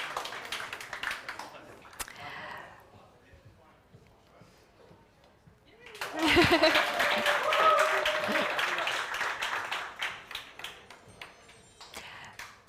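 Audience applause swells suddenly partway through a live startup demo day event in Kyiv, dense and sustained clapping from a crowd that follows quieter talk and room noise, continuing loud with scattered voices to the end.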